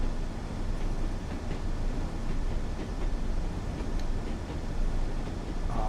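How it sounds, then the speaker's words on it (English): A train runs on the Tees Valley line in Train Sim World, steady rumbling wheel noise on the tracks with faint rhythmic clicks, continuous and close, no voices. "I love the noise of the train on the tracks"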